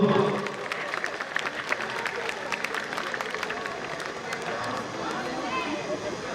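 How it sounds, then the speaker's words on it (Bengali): An audience at a school centenary closing ceremony claps to welcome a DIG, a dense, steady round of applause heard over a voice speaking on a public address. "একটু সকলে মিলে একটু জোরে করতালির মধ্য দিয়ে অভিনন্দিত হোক এই সুন্দর মুহূর্ত"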